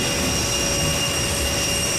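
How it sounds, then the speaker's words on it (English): A Boeing 747SP departing Oshkosh gives a loud, steady jet-engine roar, a dense continuous rumble with a high whine on top that holds at constant strength throughout. "let's sit back and enjoy its roaring departure out of Oshkosh"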